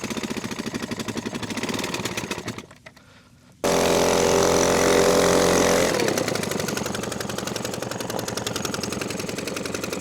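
A boat motor runs during engine break-in, chugging with a fast rattling pulse. It drops away briefly, then bursts back much louder, roaring as it revs before settling to a steady, slightly lower drone.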